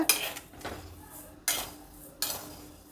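Two cups of rice being stirred in a pan as they heat, with three sharp metallic scrapes of a utensil against the pan and soft grainy rustling in between, close and fairly quiet.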